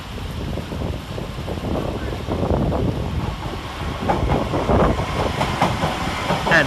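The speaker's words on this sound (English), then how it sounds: "Arriving to terminate with an LNER service from London King's Cross is 801 103 and 801" LNER Class 801 trains rolling into Leeds railway station in heavy rain, a loud rumbling approach with rhythmic wheel clatter building over several seconds, with a station announcement heard over it.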